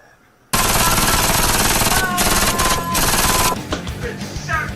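A burst of sustained, loud rapid gunfire starts abruptly and hammers on for about three seconds, then gives way to fainter scattered noise.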